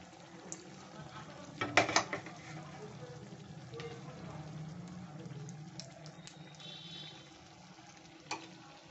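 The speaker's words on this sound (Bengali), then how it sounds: "এইরকমভাবে আমি সবগুলো ভেজে নেব লালচে করে" Banana flower chops (mochar chop) deep-frying in oil until reddish, a steady low sizzle with a few sharp clatters and stirring knocks near the start and a brief clink near the end.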